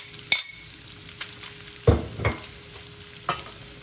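Onions and jalapenos stirred into sizzling sloppy joe meat in a pan, with a few distinct scrapes and clacks of a utensil over a steady low fry, close and fairly loud.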